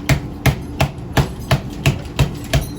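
The back of a knife strikes a lobster knuckle shell eight times in a steady rhythm, each one a sharp, close crack with no talking.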